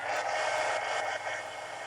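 A hair dryer blows steadily on a collage steampunk mini book craft project, a loud continuous rushing whoosh close to the mic that holds at an even level for the whole stretch.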